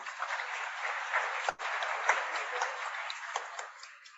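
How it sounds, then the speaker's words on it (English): Conference audience at an energy summit in South Africa giving sustained applause, an even, continuous wash of many hands clapping at steady volume, with a brief dip partway through. "Let's give him another round of applause."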